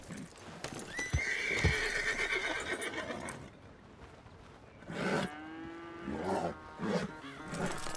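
In Red Dead Redemption 2, a horse at a corral gives a long, loud whinny with a sharp hoof thud early on, then snorts and short neighing bursts follow after a quieter gap.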